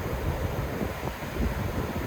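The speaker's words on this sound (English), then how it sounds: "wow, it's windy" Wind gusts buffet a microphone outdoors during beekeeping, a low rumbling roar that swells and eases across a couple of seconds, loud and close with no talk.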